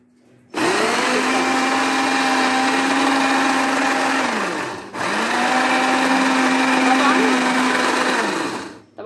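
A blender grinds sesame seeds into tahini in two long bursts of steady whirring, the motor pitch holding level before a brief stop midway and then restarting, loud and close throughout.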